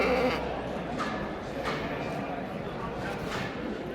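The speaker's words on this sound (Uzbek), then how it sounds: "Hisora qo'ylar." At a wholesale livestock market in Dushanbe, Hissar sheep bleat over and over amid a dense crowd murmur, with voices talking nearby throughout.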